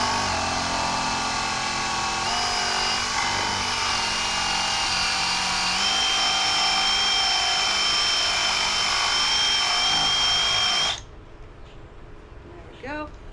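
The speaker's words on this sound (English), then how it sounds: "Now I'm just going to drill the holes in the top so the lights can sit into it." A power drill bores holes into the top of a wooden post for garden solar lights, a loud steady whine that rises slightly in pitch partway through, then cuts off abruptly near the end, leaving quiet room sound.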